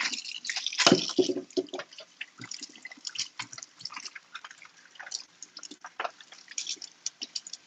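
Produce being rinsed for juicing, heard as scattered irregular drips and small splashes of water at close range, faint and intermittent, with no talking.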